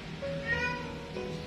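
A rescued kitten, just out of surgery for protruding intestines, gives a single drawn-out meow, fairly faint and alone against a quiet background.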